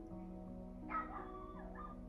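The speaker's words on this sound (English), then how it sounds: "You can hear my dog barking" A dog yips and whimpers once at a distance outside, faint against a steady low hum indoors.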